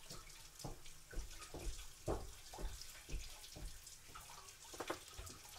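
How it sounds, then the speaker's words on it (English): Tap water running into a sink while hands are washed in a home kitchen before baking, a quiet steady splash with irregular sloshing and dripping as hands move under the stream. "and also wash my hands."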